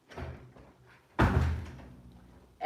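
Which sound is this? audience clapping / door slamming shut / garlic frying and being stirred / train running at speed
door slamming shut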